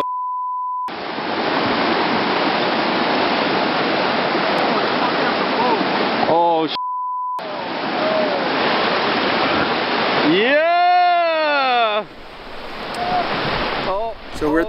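A narrow wild river near its source runs over rocks at a modest water level, giving a loud, continuous rush. The rush cuts out briefly for a short tone, then returns with a rising and falling whistle near the end.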